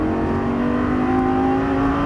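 A Lamborghini Gallardo Superleggera LP570 on a racetrack, its engine at full throttle with a loud, steady, high-pitched howl that holds close and continuous without any speech.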